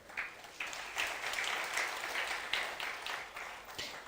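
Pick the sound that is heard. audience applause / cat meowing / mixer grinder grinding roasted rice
audience applause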